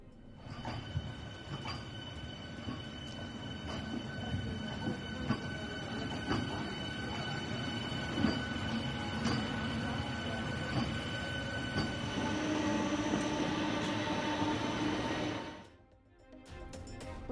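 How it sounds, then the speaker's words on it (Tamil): An air-conditioned suburban electric train on a trial run at the Tambaram depot, a steady rolling rumble with wheel squeal and clatter, fading out abruptly near the end. "தாம்பரம் பணிமனையில் ஏசி புறநகர் ரயில் சோதனை ஓட்டம்."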